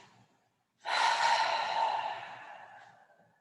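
A yoga breath: a moment of held silence, then one long, close, audible exhale through the body that fades out over about two seconds.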